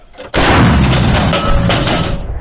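A single loud, deep boom from an anti-aircraft gun of Vietnam War vintage bursts in abruptly, then a long rumbling roar and echo sustain through the rest of the clip.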